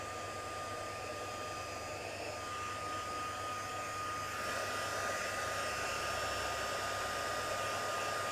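A handheld hair dryer blows steadily on scrapbooking string, a loud continuous whirring roar that brightens and grows slightly louder partway through, with no talking.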